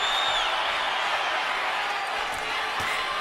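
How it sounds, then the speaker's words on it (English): A boxing arena crowd swells with a sustained roar of excitement at the start of a round, broad and distant-sounding, with a commentator talking over it. "Crowd gets excited here at the beginning of round number 6"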